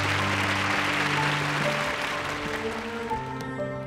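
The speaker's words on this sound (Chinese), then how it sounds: "我们大家给点掌声好吗？" A studio audience on a dating show claps steadily, a dense sustained patter of many hands, with background music tones running underneath.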